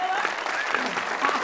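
Studio audience applause at a South African TV game show, a dense steady patter of many hands clapping at moderate loudness for the whole moment, with a faint tonal whistle-like element drifting over it.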